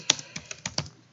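Keystrokes tap on a computer keyboard while entering a drawing name in a drafting title block, about six close, distinct clicks in an uneven rhythm, fading out with no talk.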